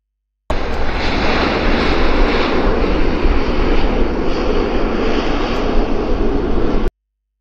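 An Air North airplane passing at Vancouver Airport, a loud, steady broadband engine roar that starts abruptly and holds at a constant level for about six seconds, with no voices over it.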